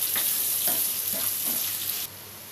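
Onion and garlic paste frying in oil with a steady hiss of sizzling, broken by a few soft stirring scrapes, close and alone before the sound drops off near the end.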